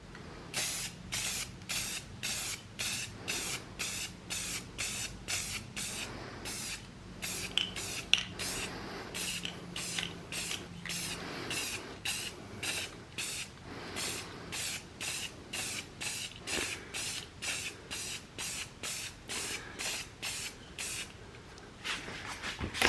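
A faceplate is spray painted in dozens of short, evenly spaced hissing bursts from an aerosol can, repeating steadily and close up with no talking.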